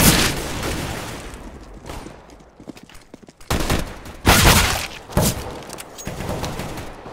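Gunfire in Counter-Strike: Global Offensive, loud bursts of rapid shots and heavy booms in several clusters with short gaps between volleys.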